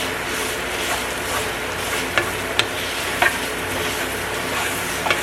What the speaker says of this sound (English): we're going to give it a stir